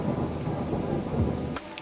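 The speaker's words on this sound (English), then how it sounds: "That was just a lightning strike." Thunder from a lightning strike booms loudly through heavy rain for nearly two seconds, a dense continuous roar with rain hiss, ending in a brief sharp crackle.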